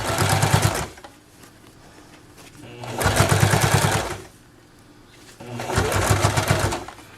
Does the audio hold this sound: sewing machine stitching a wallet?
yes